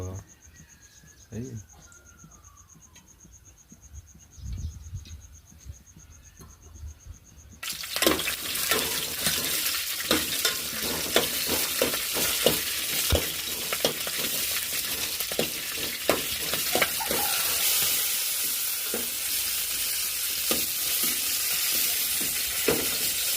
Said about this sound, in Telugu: నాకు తెలిసిన పద్ధతిలో నేనైతే మిరపకాయలు వేపి చేస్తున్నాను